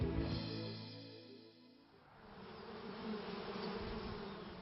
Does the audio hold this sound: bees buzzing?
yes